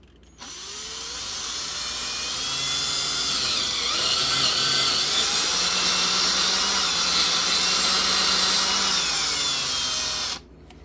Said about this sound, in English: I'm going to drill a 3/8 hole, which is a pretty big hole